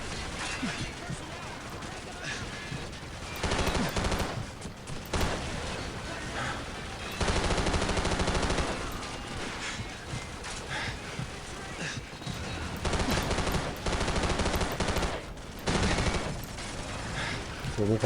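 Rapid bursts of automatic gunfire in Call of Duty 4: Modern Warfare crackle almost continuously, loud and close, with someone talking over the shooting.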